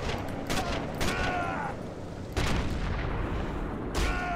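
Gunfire in the video game Sniper Elite: several loud, booming shots with echoing tails, spaced about a second apart, over a constant noisy game background.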